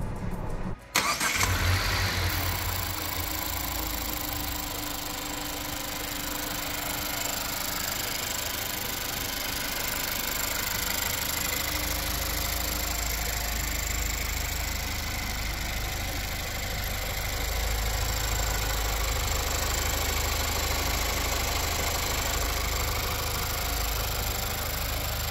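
A Nissan Qashqai engine cranks and catches with a short burst, then settles into a steady, even idle that hums on unchanged for the rest of the recording, close and alone without speech.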